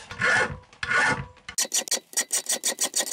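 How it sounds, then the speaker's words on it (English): A metal file rasps a protruding screw tip flush against recycled wood on a homemade coat rack: two long, slow strokes, then a quick run of short, regular strokes, close and alone. "I'm just using a file to take the spike off the end"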